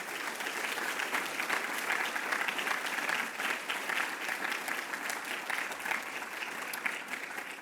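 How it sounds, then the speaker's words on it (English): Steady audience applause at a NASA Langley closing ceremony, a sustained wash of many hands clapping that holds evenly from start to finish with no voices over it. "let's give our scholars a round of applause"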